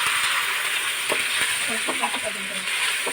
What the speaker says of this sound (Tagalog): Gisa-gisa lang po natin. Ayan, yung katrabaho ko ang nagigisa.